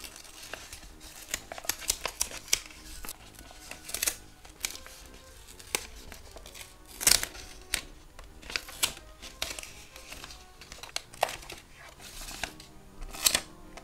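Soft crinkling and light scraping as a paper cut-out is peeled off, a string of short, quiet rustles and snaps spread across the clip with no voices.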